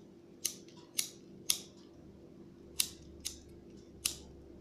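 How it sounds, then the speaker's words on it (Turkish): Sharp scissor snips cut thread for needle lace, six crisp close cuts spaced irregularly over a quiet background. "İpimi yakın bir yerden kesiyorum."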